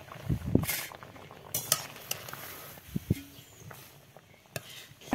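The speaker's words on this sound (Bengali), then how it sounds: "ভালো করে মিশিয়ে নিতে হবে, ভেঙে নিতে হবে আলুগুলো" Boiled potatoes are mashed and mixed in a pot, with irregular soft thuds, scrapes and clinks of a utensil against the cookware in a quiet room.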